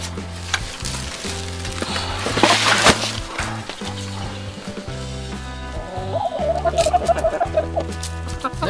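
Hungry chickens clucking close by while being fed salad, against a busy background of rustling and thumping, with a burst of louder clucks near the end.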